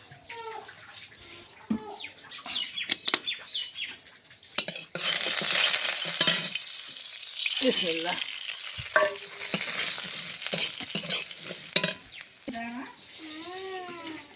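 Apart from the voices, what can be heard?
vermicelli frying in white oil in a wok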